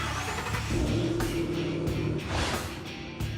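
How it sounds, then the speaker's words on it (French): A 650-horsepower Ford Mustang V8 revs up and roars close by, holding a deep throaty rumble before easing off and surging again briefly. "Et dans le bruit du V8 de 650 chevaux qui se déchaîne."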